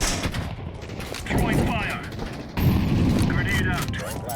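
Bursts of rapid gunfire crackle in two volleys amid Counter-Strike 2 game sounds, while someone talks over the shooting.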